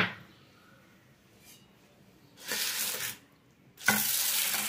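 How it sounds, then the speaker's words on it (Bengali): Arhar dal, pigeon pea lentils, is washed in cold water at a kitchen sink, with quiet handling at first and then two strong bursts of running tap water splashing over the lentils. "ঠান্ডা জল দিয়েই কিন্তু যেমন ডাল ধোয়া হয় সেইভাবেই ডালটাকে আমি 4-5 বার ভালো করে আগে ধুয়ে নেব"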